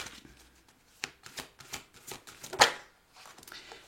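Tarot cards shuffled by hand at close range, a run of quick riffling flutters and soft slaps with a sharper snap near the end.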